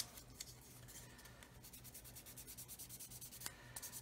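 Sanding stick rubbing plastic model kit parts for a Roden C-141B Starlifter, smoothing ejector pin marks, giving a steady close scratchy rasp of repeated short strokes, fairly quiet and alone.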